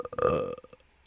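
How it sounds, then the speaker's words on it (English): A single close, loud burp bursts out and trails off over about a second, with no talk. "Who burped in my recording?"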